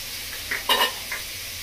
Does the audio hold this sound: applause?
no